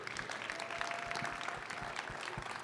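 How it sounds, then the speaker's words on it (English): Faint, distant applause from a convention hall audience rises as a sparse patter of clapping over a low hum, quiet and steady throughout, without any speech. "let's give Command Sergeant Major Rudder one last round of applause"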